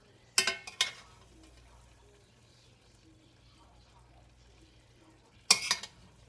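Leftover white rice spooned onto a plate gives sharp clinks of a spoon against the plate, two quick scrapes at the start and another near the end, with quiet pauses between.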